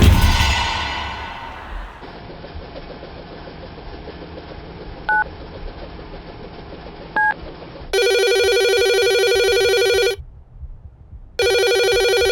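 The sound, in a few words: telephone ringing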